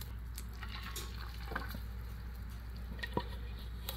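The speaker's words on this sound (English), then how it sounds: "Ooh, just listen to that sizzle." Quiet sizzling with scattered crackles and small pops from butter melting in a hot pan, soft and continuous.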